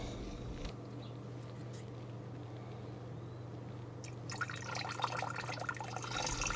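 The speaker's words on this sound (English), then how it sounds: "Let's add some Dip It Dye Fire Red." Fire Red Dip It Dye liquid poured into a hot bed disc-dye setup for a Discmania FD golf disc, a splashy pouring rush that starts late and runs to the end over a steady low hum.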